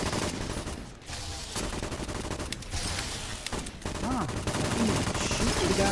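Dense, sustained gunfire in the video game Fallout: New Vegas, with rapid overlapping shots and a few brief gaps over about six seconds, loud and close.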